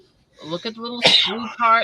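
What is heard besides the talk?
sneeze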